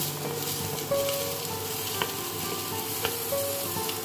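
Panch phoron spices with long beans, carrot and potato sizzle steadily in hot oil, a loud continuous frying hiss with faint stirring clinks, no voices.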